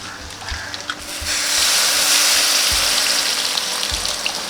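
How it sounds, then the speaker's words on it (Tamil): Tamarind water is poured into a curry frying in a pan with chili powder, turning a light sizzle into a loud, continuous hiss and bubbling heard up close. "புளியை நல்லா கரைச்சி இதில் ஊற்றிடலாம்."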